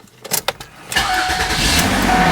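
A Ford Freestyle, just repaired for a P0141 rear oxygen sensor heater circuit fault, gives a few mechanical clicks before its engine catches and settles into a loud, steady idle close by.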